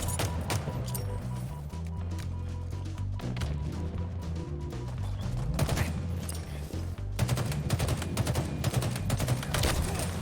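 Battle rifle fire in the Halo Infinite multiplayer game, rapid cracking bursts layered over dense game sound and music, with shots recurring throughout at moderate loudness.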